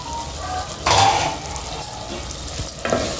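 Tomatoes frying in a pan for a stuffed-tomato dish give a steady close sizzle, with louder bursts of stirring and scraping near the start and again toward the end.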